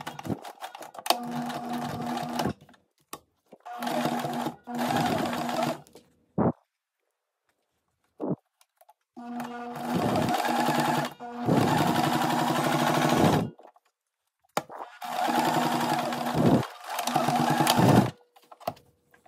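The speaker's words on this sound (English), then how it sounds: "Now we can stitch another pocket." Sewing machine stitching a patch pocket onto a vest, running in several bursts of a few seconds each, separated by short pauses and clicks, close and fairly loud with no talking.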